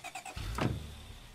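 A car in the State of Decay video game: a few short mechanical clicks, then a door-like thump and a brief engine swell that settles into a low idle.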